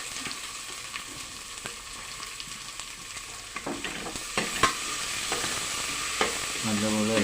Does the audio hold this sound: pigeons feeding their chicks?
no